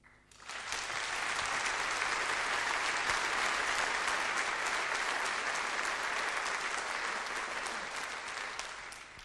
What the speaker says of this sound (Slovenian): Ja, prav je, da ploskate